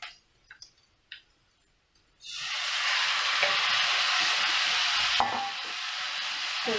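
Chicken pieces go into a hot kadai of sautéed onions. A couple of soft clinks come first, then a sudden loud, hissing sizzle starts and fills the rest of the clip, close and steady, with one brief spatter spike.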